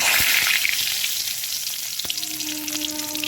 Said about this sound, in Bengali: এবার ওই তেলের মধ্যেই একটা আমি তেজপাতা দেবো